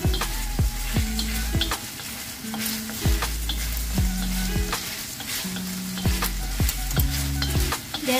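Beef steak sizzles in a hot pan while being stirred, a steady bright frying crackle with repeated scraping strokes of a utensil against the pan, close and alone.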